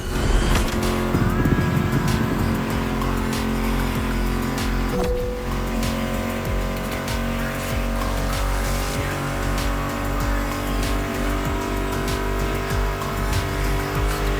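Muscle car engines in The Crew Motorfest racing game roar steadily and loudly throughout, with revving and tire squeal under a music track; no talking.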